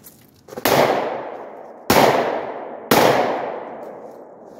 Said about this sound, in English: I just want to see you know, how, how it's going to shoot.